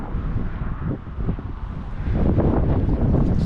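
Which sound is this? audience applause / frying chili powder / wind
wind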